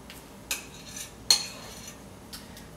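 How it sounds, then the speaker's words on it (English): A utensil scraping cheese mixture out of a bowl for cheese potatoes, a few sharp clinks and scrapes at irregular intervals against a quiet room. "you want to scrape off all the little bits of the cheese mixture as you can"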